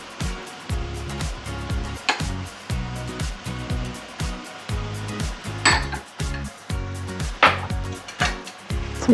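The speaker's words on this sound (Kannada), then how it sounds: "ಸೊ ನಾನು ಇನ್ನು ಸ್ವಲ್ಪ ತುಪ್ಪ ಹಾಕ್ಕೊಂಡು ತಿರುಗಿಸ್ತೀನಿ." Carrot halwa being stirred with ghee in a pan, with repeated loud metallic scrapes and clanks of the spoon against the pan in an uneven rhythm, close-up, with no talking.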